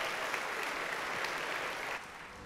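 A church congregation claps together during a sermon, a steady wash of many hands at moderate loudness that drops slightly toward the end.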